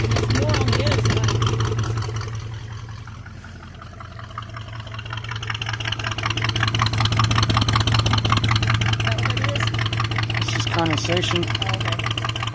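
A 1986 K5 Blazer engine idles steadily after long storage, with oil in the exhaust, a loud continuous low rumble that dips briefly and then swells again, while people talk over it.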